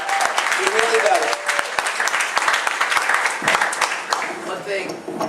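An audience at a Bronx town hall applauds the executive director, scattered but lively clapping of a modest crowd close by, with voices mixed in beneath the claps.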